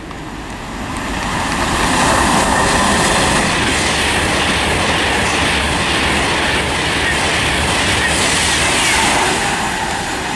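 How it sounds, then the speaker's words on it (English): A Virgin Trains service from London Euston to Liverpool Lime Street passes through Watford Junction on the West Coast Main Line, a loud continuous rushing roar with rattling wheel noise that swells in and holds steady throughout. "passing through now is a Virgin Train service to Liverpool Lime Street from London Euston"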